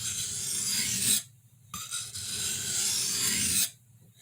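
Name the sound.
Schrade Woodsman knife being sharpened on a stone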